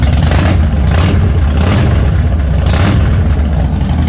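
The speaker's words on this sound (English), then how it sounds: "when you get on the road and you start cracking the throttle on this one" A 2007 Harley-Davidson FXDL Dyna Low Rider engine revs on the road as the throttle is cracked open, a deep, loud, continuous low rumble with rising and falling surges and no talking.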